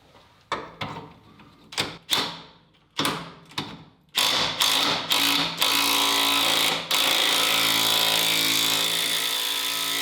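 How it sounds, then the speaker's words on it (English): A ratchet with a 21 mm socket loosening the shock absorber nuts on a 1992 Camaro: short close bursts of ratcheting clicks, then a longer continuous grinding run. "I'm just going to loosen these nuts that are holding in the shocks with a 21 millimeter"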